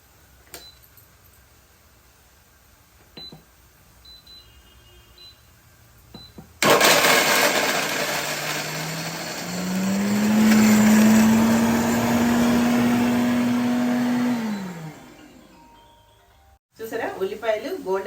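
Mixer grinder powdering ingredients for a drumstick leaf fry: after faint kitchen clicks, the motor starts abruptly and whirs loudly, its pitch climbing steadily for about eight seconds before winding down to a stop, followed by rattling.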